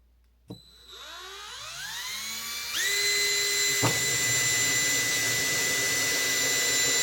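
Power drill spinning up and boring a hole in PVC pipe for a chicken waterer, a rising whine that settles into a loud steady high-pitched drone after a click at the start.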